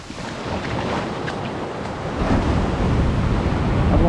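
Ocean waves surge and churn inside a beach cave, a continuous broadband roar that builds louder in the second half, with wind buffeting the microphone and no voices.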